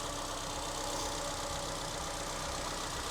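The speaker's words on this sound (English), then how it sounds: "this is the car running, how it sounds from the engine bay" A 2001 Nissan Silvia S15 Spec S idles steadily, heard up close from the engine bay as an even, continuous mechanical hum and rattle with no stumbles, running alone without voices.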